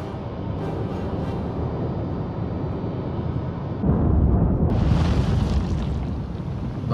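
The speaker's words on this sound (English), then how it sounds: "And some secondary explosions as well." Torpedo hits and secondary explosions on a ship in the naval game War on the Sea, a heavy continuous rumbling roar that surges into a louder, brighter blast midway, then rolls on low and loud.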